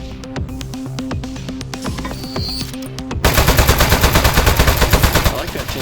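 Rapid shooting in the video game Aperture Desk Job: after a stretch of music, a loud, dense burst of repeated gunfire runs steadily to the end.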